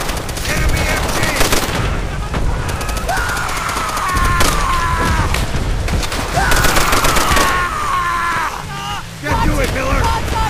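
Enemy machine gun fire rattles in sustained bursts during a World War II battle in Call of Duty: World at War, loud and close, mixed with other gunfire, explosions and voices.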